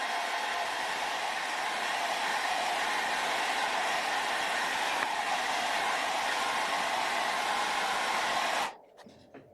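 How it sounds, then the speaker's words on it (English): A hair dryer drying paint blows with a steady, loud roar that runs without a break, then switches off abruptly near the end. "I'm just going to hit it with the hair dryer quickly."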